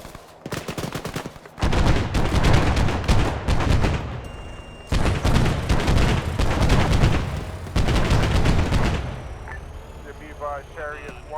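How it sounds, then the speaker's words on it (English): Dense bursts of rapid automatic gunfire fill a video game ambush in Arma 3, loud rattling volleys broken by brief pauses, ending with faint radio-like chatter. "Oh, they're shooting back."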